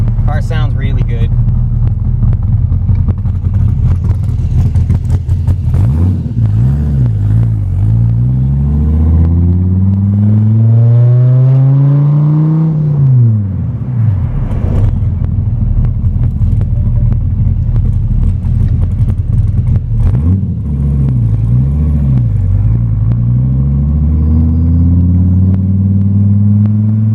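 A&C Performance Gen 5 car with an aftermarket cam cruising around town, a loud lumpy rumble rising and falling through repeated revs and gear changes over about half a minute, with someone talking over it.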